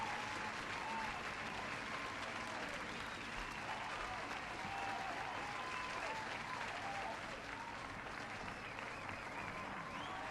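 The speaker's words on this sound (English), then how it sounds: "let's give a warm YouTube and Twitch chat round of applause to Eric." Audience applause at a live-streamed poetry anthology launch event, a steady, fairly quiet patter of many hands clapping that carries on evenly for about ten seconds.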